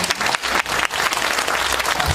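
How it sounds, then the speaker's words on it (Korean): A short burst of steady applause from a conference audience at a lifelong learning festival in Gwangmyeong, dense and even throughout. "우리 박윤주 고문님께 큰 박수를 보내주십니다"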